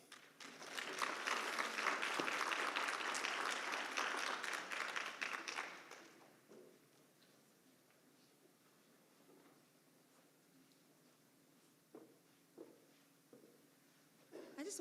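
Audience applause at a state minority health summit swells quickly and holds loud and dense for about six seconds before cutting off, leaving a quiet room with a few scattered thumps and rustles.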